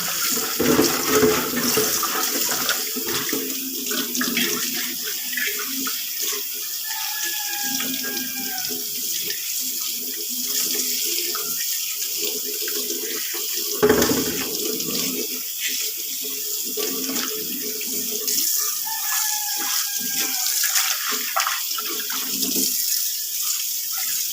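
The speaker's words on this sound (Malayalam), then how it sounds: "ഇനി ഇതിലേക്ക് ഞാൻ കഞ്ഞിവെള്ളമാണ് നിറയെ ഒഴിക്കുന്നത്." Rice water pours steadily into a washed clay pot being cured before use, a continuous close splashing and gurgling stream that shifts in tone as the pot fills, with no talking.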